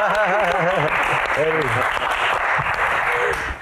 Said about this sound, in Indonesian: Tepuk tangan buat Elo